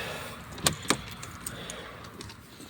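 The door of a solid-wood, year-round summer cabin opens with two quick, sharp latch clicks close by, followed by a faint, quiet room.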